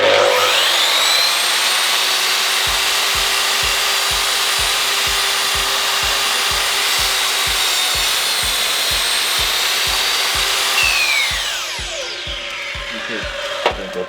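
A mitre saw plunge-cuts through a good-sized piece of wood, its motor whining loud and steady under strain for about ten seconds with a rhythmic chattering of the blade, then spinning down to quiet.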